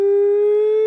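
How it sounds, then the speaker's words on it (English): A civil defense siren in the video game RoadCraft sounds as a single sustained wailing tone, loud and steady for under a second. "Freaking Silent Hill siren."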